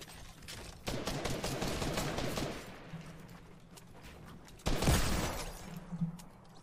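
Desert Eagle pistol fire in a video game: dense bursts of loud shots from about one second on, with a sharp, heavy crack near the five-second mark and scattered reports afterward.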